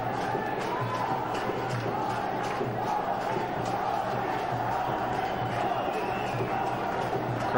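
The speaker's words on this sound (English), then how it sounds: "Crowd chanting for Dhoni." Cricket crowd at Premadasa Stadium in Colombo during an India versus West Indies one-day match, chanting in a steady rhythmic roar, heard from a distance as a continuous wash of voices.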